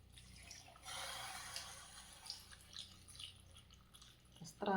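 Water is poured into a cooking pot for a traditional rice porridge and curry meal, faint splashing and trickling in soft bursts, ending with a louder splash.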